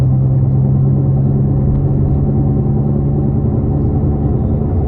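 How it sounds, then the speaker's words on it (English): A 2010 Nissan Altima cruises uphill with a loud, steady low drone and a constant humming whine from a wheel bearing, with no talking. "It might have a wheel bearing noise"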